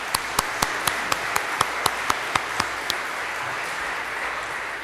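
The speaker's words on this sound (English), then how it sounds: "this is one of those times to applaud all three of our speakers for presenting" Audience at a forum applauding its speakers, a dense wash of clapping with a few sharper nearby claps spaced through the first few seconds before it thins out.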